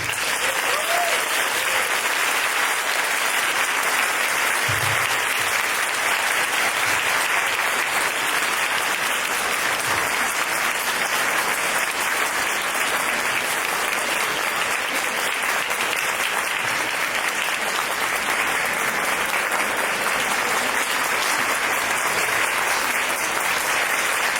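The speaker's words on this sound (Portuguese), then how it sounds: "eu transfiro todas essas palmas para Jesus" An audience applauds at the end of a spiritual talk on the Good News of Jesus, a dense and steady wash of clapping that keeps going for about twenty-four seconds without a break.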